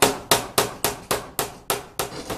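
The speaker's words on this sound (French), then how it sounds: "Donc avec un maillet, hein, pas un marteau, voilà, c'est coplanaire." A mallet taps wooden boards flush while assembling the side panel of a Kenyan top-bar beehive: eight sharp, evenly spaced knocks, close and fairly loud, each with a short ringing decay.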